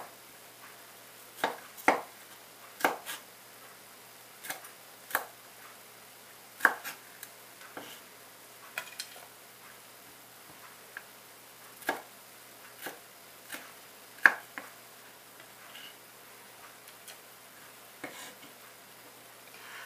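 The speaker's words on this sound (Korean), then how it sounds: "홍피망도 같은 크기로 잘라주시면 됩니다" Knife chopping red bell pepper on a cutting board: a dozen or so sharp, irregular chops spaced a second or two apart, close and clear against a quiet background, with no talking.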